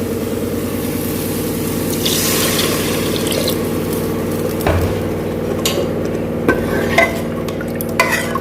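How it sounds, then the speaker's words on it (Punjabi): Water goes into a pot of simmering potato and pea curry, a steady wash of liquid and sizzle with a stirring scrape partway through and a few soft knocks near the end, no talking. "ਇਹਦੇ ਵਿੱਚ ਆਪਾਂ ਪਾਵਾਂਗੇ ਪਾਣੀ"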